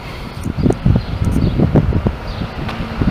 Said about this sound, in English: I got a strong wind at my back.